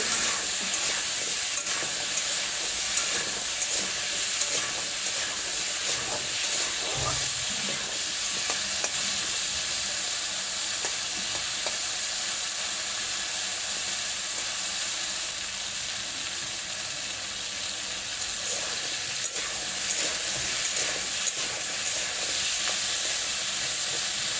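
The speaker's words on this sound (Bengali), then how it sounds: "কচুগুলোকে ভালো করে ধুয়ে রেখেছি এবার দিয়ে দেব দিয়ে কিছুক্ষণ নাড়াচাড়া করে একটু লাল লাল হলে" Washed taro pieces fry in a pan with a steady, loud, bright sizzle that runs without a break, while soft scraping stirs come and go throughout. No voices.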